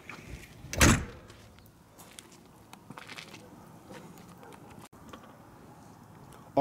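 A 2014 Cyclone 4018 toy hauler's insulated baggage door with a slam latch shuts once with a sharp, loud thud near the start, followed by quiet handling sounds.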